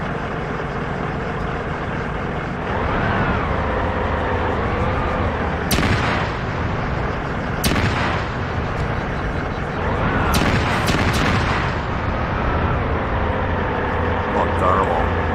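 Ammunition cooks off in the Arma 3 war game: a continuous engine-like rumble broken by several sharp loud bangs and crackling bursts, close and dense throughout.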